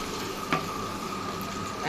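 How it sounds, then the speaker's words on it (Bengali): Spice paste for masoor dal bhuna cooking down in a pan, a steady soft sizzle with faint stirring scrapes and one brief clatter, close and continuous. "যেহেতু আমি ভুনা করব মসুরের ডাল, তো মশলাটা একটু কষিয়ে নিতে হবে।"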